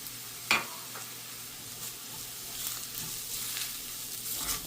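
Ground coconut paste going into a hot pan for green tomato thoran, a brief loud splash of sizzling followed by a steady, softer frying hiss with faint stirring scrapes.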